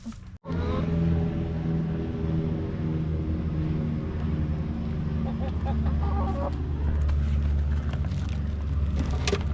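Backyard chickens cluck in a coop, a steady close chorus of hen calls lasting throughout over a low continuous background hum.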